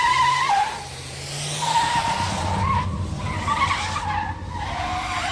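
A car speeding off with tires screeching: a loud, sustained tire squeal over a revving engine that surges and accelerates away, heard alone without talk.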